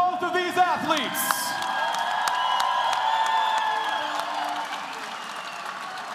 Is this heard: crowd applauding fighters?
yes